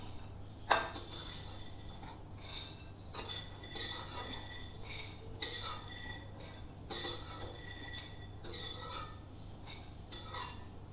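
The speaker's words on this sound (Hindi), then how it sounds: "अब इन्हें एक प्लेट पे निकाल लें।" Roasted makhana and almonds being moved onto a plate, giving several separate bursts of light clinking and rattling against the dish, spaced irregularly and fairly quiet over a steady low hum.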